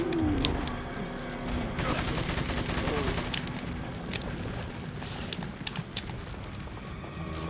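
TMP submachine gun fire in Resident Evil 4 on PS2, rapid bursts of clicky shots scattered through the clip over a busy game background.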